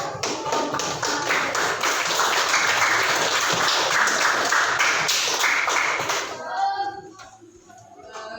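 A classroom applauds after group presentations, with a dense burst of clapping that fills most of the stretch, then thins out and stops, leaving brief quiet room sound at the end.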